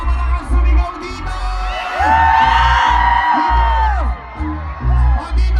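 A loud crowd at a battle of the bands shouts, whoops and cheers in waves, with rhythmic bursts and rising yells close by, and a voice is heard through the noise.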